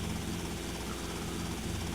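Helicopter in the video game Grand Theft Auto Vice City, a steady rotor and engine drone held at an even level throughout a brief stretch.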